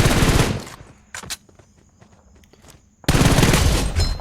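Rapid automatic gunfire from a battle-royale shooting game comes in two loud sustained bursts with a quieter stretch of footsteps and faint game sounds between them.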